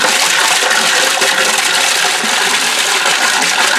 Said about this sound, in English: As you can see, the water's not going above and getting out of the sink, so the overflow is working.